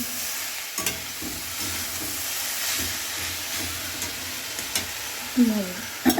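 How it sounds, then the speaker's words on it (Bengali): Tender water spinach (kalmi greens) frying in a pan over an onion and garlic tempering gives a steady close sizzle, with a few light utensil clinks and a louder clatter near the end. "এখানে কলমি শাক ভাজা করছি।"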